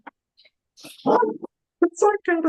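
A pet dog barking indoors in a few short, loud bursts with silent gaps between them, close to the microphone.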